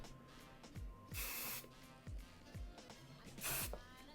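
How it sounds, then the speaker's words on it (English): Hairspray from an aerosol can is sprayed onto hair in two short hissing bursts, set among quiet rustling and soft handling thumps, with no talk. "So I'm taking my hairspray and I'm just going to kind of lock this in place."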